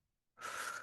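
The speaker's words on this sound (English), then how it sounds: "Breathing through the mouth." A single steady breath is pushed out through the mouth during seated qigong practice, starting after a short silence and continuing as a close, soft, airy rush.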